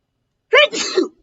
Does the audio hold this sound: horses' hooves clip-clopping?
no